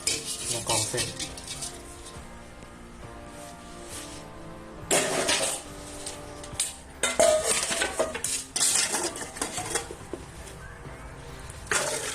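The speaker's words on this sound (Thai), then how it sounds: "เราก็จะเอาเส้นออกจาก กระทะนะครับ" Metal utensils scraping and clinking in a pan as fettuccine is lifted out, with wet stirring sounds and intermittent louder clatters.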